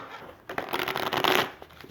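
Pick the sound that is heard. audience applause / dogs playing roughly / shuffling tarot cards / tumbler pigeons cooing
shuffling tarot cards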